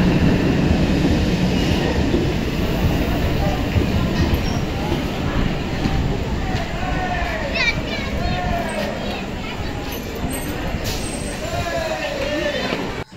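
A Renigunta–Nandyal DEMU passenger train at a railway station, heard as a steady loud rumble with brief wheel squeals and clatter throughout, while someone talks over it.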